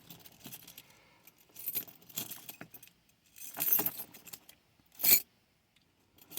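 Jiggler keys and warded lock keys from a lockout tool set jangle in several separate metallic bursts, close and clear, with short quiet gaps between the handlings.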